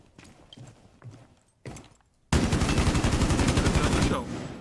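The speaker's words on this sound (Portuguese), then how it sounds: "Eu vou descarregar meu pente aqui" Rapid automatic gunfire in Rainbow Six Siege as a full magazine is emptied in one sustained, loud burst, preceded by a few scattered quieter shots and footsteps.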